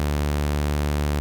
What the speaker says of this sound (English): So this is a saw wave. We then pitch it down by 2 octaves.